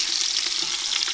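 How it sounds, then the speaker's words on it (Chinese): Pork bones sizzle in hot oil with ginger slices and scallion pieces in a clay pot, a steady close crackle with no talk. "放入姜片和葱段，然后就把童子骨倒进来煎一下"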